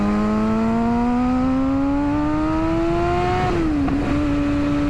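A 2007 Kawasaki Ninja ZX6R motorcycle engine revs steadily upward while short shifting, then drops sharply in pitch at a gear change before settling again, loud and close.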